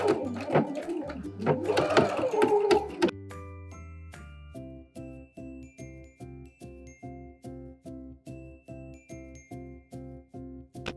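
A sewing machine stitches through thick denim with sequins on a sleeve, giving a rapid, even run of mechanical clicks after a few seconds of rustling handling noise at the start, close and moderately loud.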